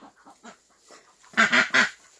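A farm duck with a new duckling gives a run of short quacks, soft at first and then three loud close calls in quick succession, with no talking.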